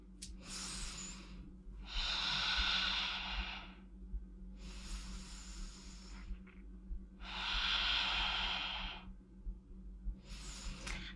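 Slow deep breaths, in and out, accompany lifting and lowering a broom in an exercise flow, with four or five long close airy breath sounds separated by brief pauses.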